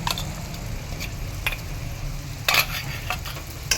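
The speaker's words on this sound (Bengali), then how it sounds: "এবার আমি সর্ষে পোস্ত বাটাটা দিয়ে দেবো" Mustard and poppy seed paste added to browned onions sizzles steadily in a pan, with a low frying hiss and occasional sharp spatula scrapes and stirring clinks over several seconds.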